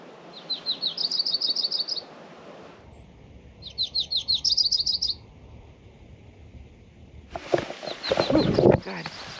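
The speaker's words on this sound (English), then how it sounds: "he's a yellow rumped warbler" A yellow-rumped warbler sings short, rapid trilled phrases in two clear bursts, close and bright against a quiet mountain trail backdrop, then a burst of rustling noise and a voice at the end.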